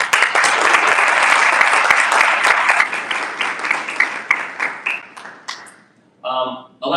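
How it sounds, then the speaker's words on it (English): A conference audience gives a panel a dense round of applause that swells steadily, then thins out and fades before a voice begins speaking. "So please let's have a round of applause for our distinguished panel."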